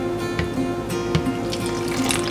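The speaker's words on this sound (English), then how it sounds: "we are going to add the 10 millimeters of water into the bowl" Water runs steadily into a bowl of peanut butter cookie mix, a continuous close splashing pour with faint clinks from the bowl.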